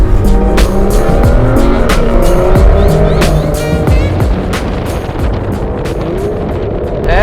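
A V12 car driven hard through corners, its engine roaring loudly and continuously with tires squealing and skidding as it changes pitch through each bend.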